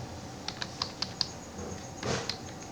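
Quiet clicks of a computer keyboard: a short run of separate keystrokes, then a brief pause and a final tap or two, close and soft.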